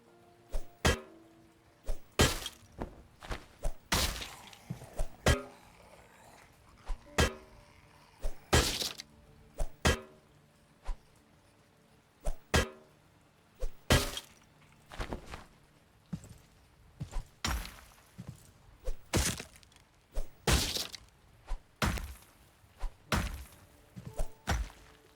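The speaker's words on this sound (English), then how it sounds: "When I hit the metal cannon, it won't let me." Repeated hits on a metal cannon in The Last Farmer: sharp cracking thunks, each struck alone at an irregular pace, around two dozen impacts, close and loud with quiet gaps between.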